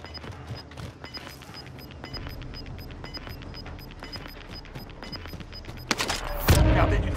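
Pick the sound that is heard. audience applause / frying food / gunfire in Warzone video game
gunfire in Warzone video game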